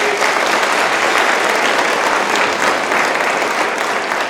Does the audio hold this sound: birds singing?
no